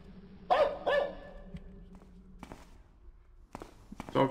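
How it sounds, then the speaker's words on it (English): A dog in a Thief fan mission barks in a few sharp, loud bursts, with softer yips and footsteps between, against a low steady game hum. "Dog's not happy to see me."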